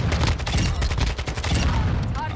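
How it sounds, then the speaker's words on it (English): Dense automatic gunfire in the video game Modern Warfare 2, a loud rapid burst of overlapping shots and booming impacts filling the whole stretch without pause. "I'm getting shot up."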